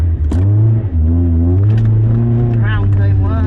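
A Honda CRX engine with a drilled airbox revs hard at the start of a grass-track autosolo, a steady loud drone with rising pitch sweeps as it accelerates, with people talking nearby.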